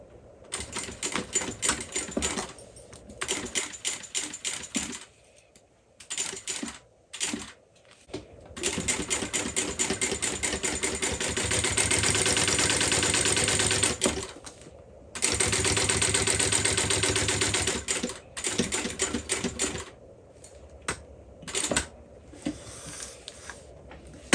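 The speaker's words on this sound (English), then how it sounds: "I'm going to top stitch along here, down here, back down here, and then baste this long edge." A sewing machine top stitches a tote bag in rapid mechanical clattering runs, some long and steady and others short and stop-start, close and clear with pauses between seams.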